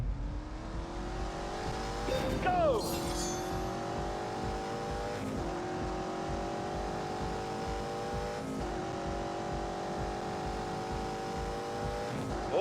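V8 car engine in The Grand Tour video game, revving and accelerating through several gear changes, with a sharp tire squeal early on and a steady loud drone in between; a voice speaks once briefly.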